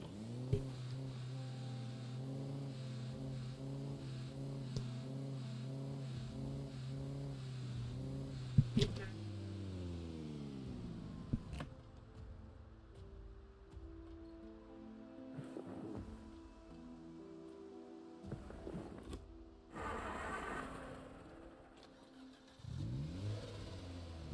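A car engine in Project Zomboid hums and revs as the vehicle drives into a garage, its pitch rising and falling through gear changes over about twenty seconds, with a voice speaking at times.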